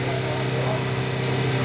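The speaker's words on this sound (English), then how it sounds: "Revs are up and away they go" Caterham Academy race cars rev on the grid at the start of a race at Brands Hatch, a loud, continuous buzzing engine drone with steady harmonics for the whole moment, with a voice faintly over it.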